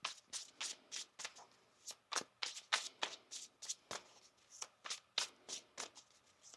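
Tarot cards are shuffled in quick, crisp riffles and flicks, a rapid irregular series of papery snaps close by with no talking.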